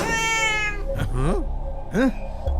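A cat meows loudly and repeatedly nearby, drawn-out plaintive cries one after another.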